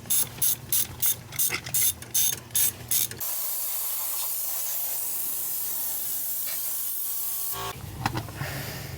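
Ratchet wrench backing out 10 mm bolts on a JDM import car, a run of about ten quick, sharp clicking bursts close up, then a steady hiss and a final short burst of clicks.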